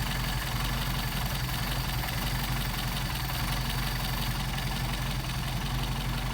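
A Mercedes 190SL engine on Solex carburetors idles in cold weather, giving a steady, even drone that stays constant from start to finish.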